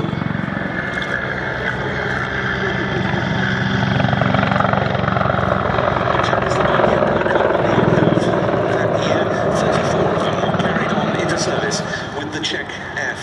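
A Czech Air Force Mi-35 Hind helicopter performs at an airshow, its rotor and turbine noise a loud continuous droning thrum that holds steady throughout, with a commentator talking over it.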